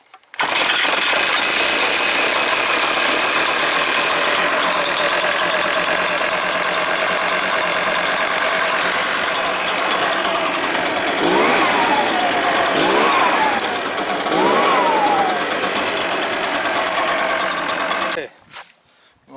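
An ECHO PB-580 backpack leaf blower with a two-stroke engine runs steadily at close range for about eighteen seconds, then cuts off abruptly near the end.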